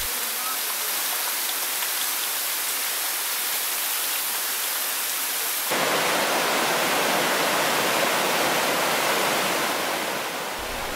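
A forest stream in Nantahala National Forest rushes over rocks in a steady, broadband wash that grows louder and fuller partway through, with no voices.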